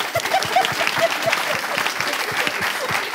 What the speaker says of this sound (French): Applaudissez pour nous quand même.